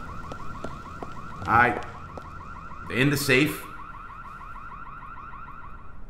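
Looping electronic alarm wailing steadily during a heist in GTA 4, loud and continuous, with two brief bursts of voices and shouting breaking through partway.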